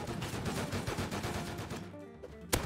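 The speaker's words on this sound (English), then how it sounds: "Throw your grenade, bruh." A grenade fires in a shooter video game amid a rapid, crackling stream of gunfire, with a sharp, bright blast standing out near the end.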